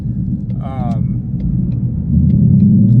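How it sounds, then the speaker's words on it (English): A low, steady exhaust drone from a Flowmaster Outlaw exhaust and X-pipe fills a 2021 Ford Mustang GT cabin, swelling louder near the end, with a brief voice heard over the rumble early on. "a little bit of drone, especially when it's almost about to shift gears but not quite"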